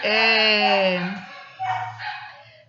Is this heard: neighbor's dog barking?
yes